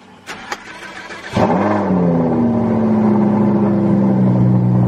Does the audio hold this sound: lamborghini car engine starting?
yes